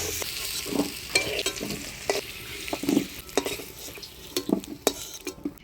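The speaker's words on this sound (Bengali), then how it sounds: "আলুটা আমি হলুদ লবণ দিয়ে ভেজে নিলাম লাল লাল করে" Potatoes frying in oil with turmeric and salt in a Bengali village kitchen, a soft steady sizzle under irregular clinks and scrapes of a utensil stirring in the pan, heard up close without speech.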